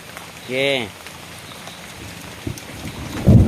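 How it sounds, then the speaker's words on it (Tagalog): Steady rain hiss fills a video game scene, with a soft rushing wash throughout and a few heavier drops or rumbles near the end, while a tonal game sound rises briefly early on. "At sinundan pa ng pag-ulan."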